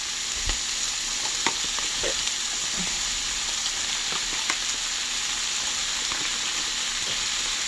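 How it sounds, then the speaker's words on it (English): Beef and mushrooms stir-fry in a pan with a steady, close sizzle throughout, broken by light scrapes and taps of a utensil stirring. "And then just stir fry them."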